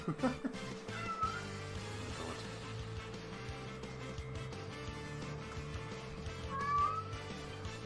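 Cat meows at a couple of points, rising briefly over steady background music and game sounds during a mobile game stream, moderately loud and close.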